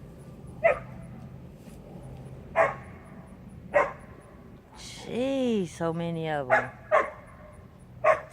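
A dog barks outdoors in single sharp barks spaced about a second apart, then a longer burst of whining, yipping barks, with a person talking nearby over steady background hiss.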